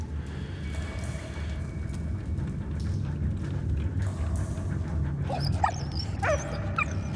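A dog in the video game Valiant Hearts barks and whimpers over a steady rumbling game background, giving a few short yelps and whines near the end, fairly loud and without talk.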